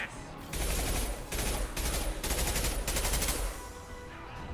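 Rapid automatic gunfire from a weapon in the video game Mass Effect, several loud sustained bursts separated by brief pauses, with no talking.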